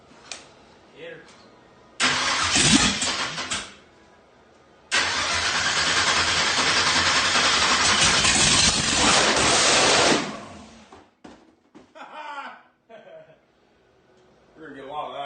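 A supercharged small-block Chevy dragster engine of about 1000 horsepower cranks and fires, roaring in two long bursts separated by a short pause, then cuts off, with people talking before and after.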